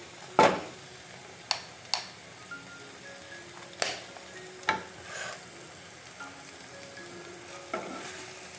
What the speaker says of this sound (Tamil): நல்லா வணக்கி விட்டுடலாம்.